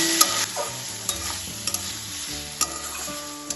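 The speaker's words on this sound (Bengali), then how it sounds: "চিংড়ি মাছটা তেলের সাথে ভালোভাবে ভাজা করে নেব।" Shrimp frying in oil in a pan for a drumstick-vegetable curry, a steady soft sizzle with a few sharp clinks of a utensil against the pan, close and alone without talk.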